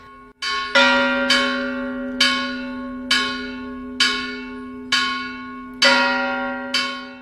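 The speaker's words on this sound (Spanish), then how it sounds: "empieza a repicar la campana" A church bell in Teotitlán del Valle rings out clearly alone, struck about eight times at a steady pace of roughly one per second, each strong toll leaving a long humming decay that overlaps the next.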